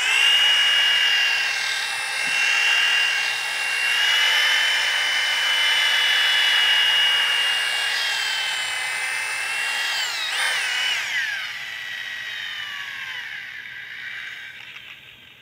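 A power mixer churns DynaSet 1K solvent-free adhesive in a bucket, a loud, steady whine with shifting harmonic tones that bends in pitch near the end and then winds down. No voices are heard.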